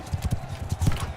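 Horse hooves clip-clop in Mount and Blade II: Bannerlord, a quick, even run of muffled thuds from a moving mount, close and moderately loud, with no talking.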